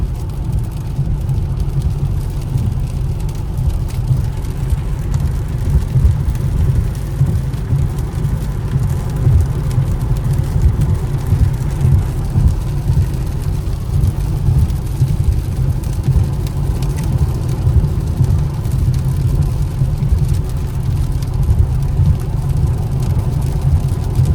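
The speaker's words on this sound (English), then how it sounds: "Really, just let y'all hear the rain noises." Steady rain drums on a Mercedes-AMG car, heard from inside the cabin, a dense, continuous low wash that holds evenly for the whole stretch with no voices.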